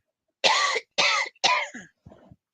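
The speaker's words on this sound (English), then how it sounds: "I'm going to cough now" Three sharp, close coughs in quick succession, followed by a softer, fainter fourth one.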